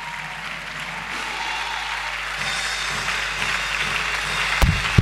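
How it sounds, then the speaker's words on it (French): A church congregation giving a sustained round of applause at a Sunday service, an even wash of many hands clapping with a faint voice underneath and a sharp knock near the end. "Une pluie d'acclamation à notre Dieu,"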